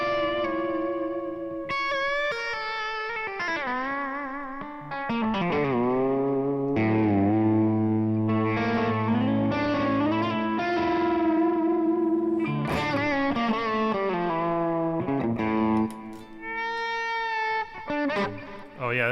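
A spacey, dissonant Phrygian-flavoured lick played through effects with distortion, chorus, echo and reverb, with sliding and bending notes over a sustained low tone, continuous and fairly loud throughout.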